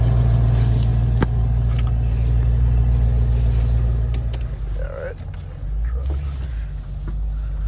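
A 1997 Land Rover Discovery with a 4-liter engine drives along a mountain road, giving a steady low rumble from inside the cabin with occasional small clicks and rattles.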